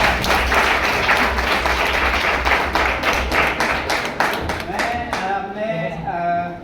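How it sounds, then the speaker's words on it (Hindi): A crowd at an Environment Day prize ceremony for a children's painting contest claps loudly and steadily, the applause thinning out toward the end as a voice begins speaking. "आइए, ताली बजाइए।"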